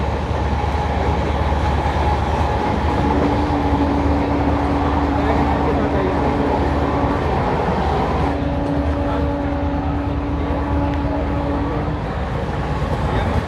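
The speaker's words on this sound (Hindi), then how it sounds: "क्रॉस कर रहे हैं मुंडका रेलवे स्टेशन।" Aboard the 12482 Shri Ganganagar–Delhi Intercity as it runs through Mundka station in Haryana: a loud, continuous rail rumble with steady humming tones throughout.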